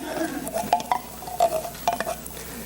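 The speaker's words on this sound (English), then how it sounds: "We stir that around in there." A spoon stirs food mixed with cream of mushroom soup in a pot, giving irregular scraping strokes and light clinks against the metal, close and clear, with no talking.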